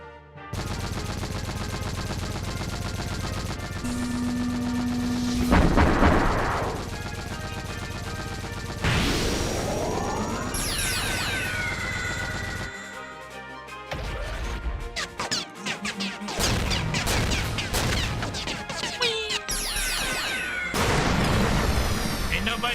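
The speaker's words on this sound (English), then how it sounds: "Barrage! Fire for effect! Over! Fire mission! Barrage!" Video game artillery barrage in a World War-style game: repeated heavy blasts, crashes and rapid gunfire in bursts over about twenty seconds, with a voice shouting over the chaos.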